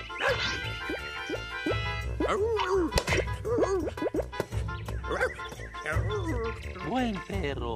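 A cartoon dog at a wild camp barks and yips in quick, excited bursts, mixed with animated animal sounds and voices, lively and close throughout.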